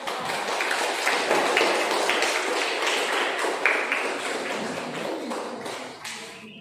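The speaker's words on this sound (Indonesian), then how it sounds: "beri aplaus Maria untuk" Applause from a classroom audience after a group presentation, dense continuous clapping of many hands, fairly loud and sustained before tapering off at the end.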